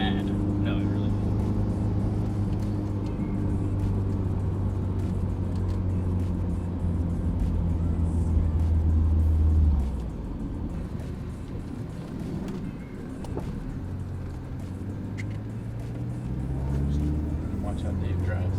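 A car with worn struts and about 240,000 miles driving along, a steady low engine and road drone with a pitch shift midway, while people talk inside the cabin.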